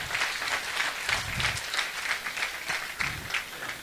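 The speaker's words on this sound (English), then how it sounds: "Please give him a round of applause." A crowd applauds a former boxer, a sustained wash of many hands clapping at moderate distance, with steady rhythm and no talk over it.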